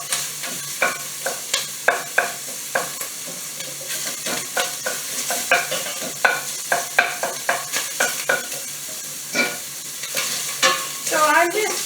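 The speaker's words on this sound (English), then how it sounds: "So I'm just chopping that ground or that sausage up in the pan to make it in smaller pieces." Crumbled sausage frying in a pan for biscuits and gravy, with repeated sharp scraping strokes of a utensil chopping and stirring over a steady close sizzle, no talking.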